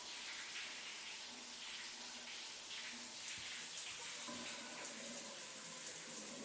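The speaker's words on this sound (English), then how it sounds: "And she goes back in the shower." Shower water running steadily in a horror film scene set in a house, a continuous broadband hiss with faint splashing texture, fairly quiet and uninterrupted, with no voices.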